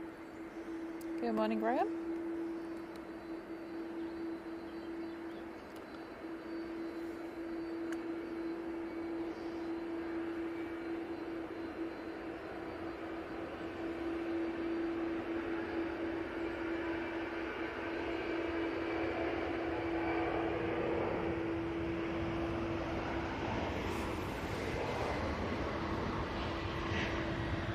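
A TUI airliner rolls down the runway for takeoff at Manchester Airport, a steady distant engine roar and hum building gradually, with a brief greeting spoken over it.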